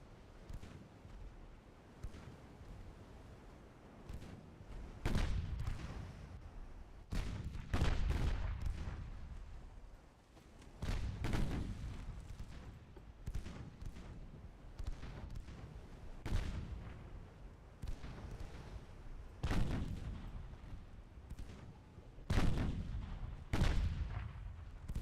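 Naval 3-inch guns firing in a dreadnought-era battleship game, about a dozen sharp booming reports spaced a few seconds apart over a quiet sea-battle background, with no talking.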